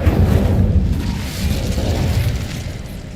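Incendio fire spell cast in Hogwarts Legacy: a loud, dense, roaring burst of fiery rumble that holds steady for a few seconds with a deep low boom, no voices.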